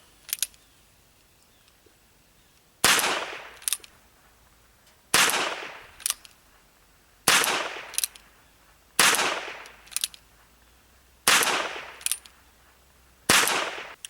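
A Ruger Wrangler revolver is fired in a slow steady rhythm of six loud, sharp shots, each crack ringing out before the next, with a faint click following some shots.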